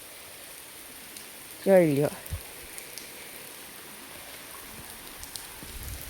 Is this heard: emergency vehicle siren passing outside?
no